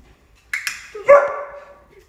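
A dog barks during clicker training, two short sharp yaps followed by a longer, higher whining bark that trails off, close and clear against an otherwise quiet room.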